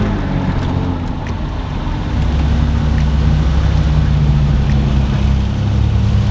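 A 2005 Subaru Legacy GT with Whiteline roll center kit and Spec B control arms driving along, a loud steady low engine drone and road rumble inside the cabin that swells slightly partway through.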